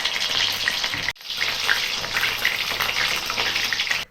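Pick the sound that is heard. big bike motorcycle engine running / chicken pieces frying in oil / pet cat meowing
chicken pieces frying in oil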